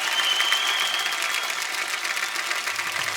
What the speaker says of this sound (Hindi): सूर्य के लिए जोरदार तालियां